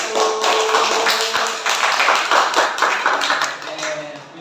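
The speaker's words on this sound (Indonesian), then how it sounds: "biar bagaimana tepuk tangan untuk kelompok satu" Classroom applause for a student group, a dense wash of many hands clapping steadily at close range, holding strong for several seconds before thinning slightly at the end.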